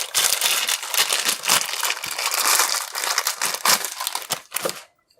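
Crinkly plastic wrap is peeled and crumpled off a Samson Meteor USB microphone close up, a steady stream of loud crackling and tearing that stops abruptly at the end.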